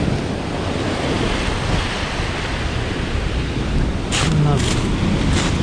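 Rough ocean surf breaks on a dark gravel beach in Tenerife, a loud continuous roar of waves mixed with heavy wind buffeting the microphone.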